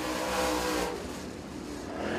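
A number 29 C.J. Rayburn race car with a Vic Hill race engine roars loud and close during qualifying at Tazewell Speedway, a sustained engine drone that swells, dips briefly and builds again with no talk over it.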